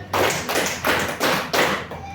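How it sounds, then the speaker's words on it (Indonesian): Five unison claps from a class of students ring out in a steady even rhythm, each crisp group clap close and loud, with nothing else heard between them. "tepuk 5 kali"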